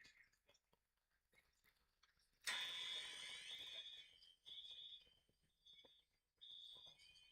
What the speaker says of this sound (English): All those fire alarms.